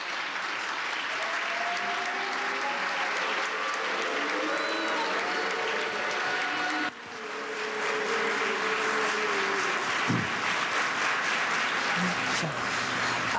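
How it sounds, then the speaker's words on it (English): A university audience at Columbia University, reacting to a 2007 speech by Iran's president, fills the hall with loud, steady applause for the whole stretch, with a brief dip partway through. "a mix of boos and applause at what has been a very interesting forum"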